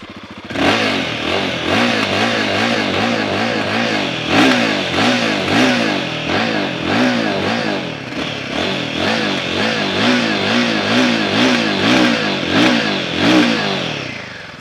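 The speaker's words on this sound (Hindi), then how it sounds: "बाइक का एग्जॉस्ट साउंड कैसे करता है वो मैं आपको सुनाता हूं। सबसे पहले हिमालयन का ही सुनते हैं।" A Royal Enfield Himalayan motorcycle's exhaust is revved repeatedly up close, loud and continuous, with rhythmic rising and falling engine pitch and some mechanical clatter.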